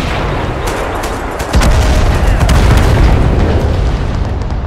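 An artillery shell exploding in the war video game Total Conflict: Resistance, a heavy, close boom about a second and a half in, followed by sustained loud rumbling and scattered crackles of gunfire.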